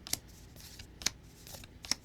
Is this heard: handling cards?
yes